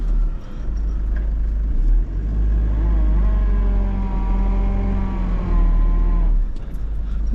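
Close engine hum from a car driven gently at low revs along a flattened beach track; the steady rumble with faint shifting tones runs throughout and dips briefly near the start and end.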